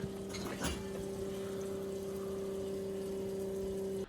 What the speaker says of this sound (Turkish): İlayda Hanım mazot dolduruyor traktörü.